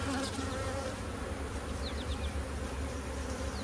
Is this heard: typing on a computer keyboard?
no